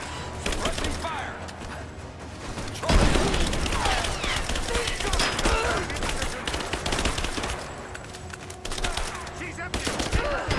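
Sustained automatic gunfire in a Tomb Raider combat scene, dense overlapping bursts that swell sharply after a few seconds and keep rattling at high intensity, with voices calling out under the shooting.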